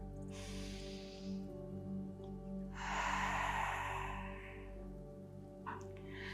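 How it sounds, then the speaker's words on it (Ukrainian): A person breathes slowly in and out through the mouth during a calming yoga practice for anxiety: two long, soft, airy breaths over a steady low hum, with no talking. "Тепер зробіть вдих і видих через рот."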